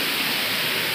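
Waterfall roaring steadily near a hillside trail, a dense unbroken wash of falling water close by with no other sounds.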